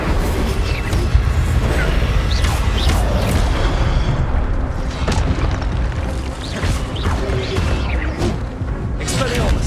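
Spells fired in rapid succession during Hogwarts Legacy combat on PS5, including an Incendio fire blast: loud, dense booms and bursting crashes layered with other spell impacts, continuous and close throughout.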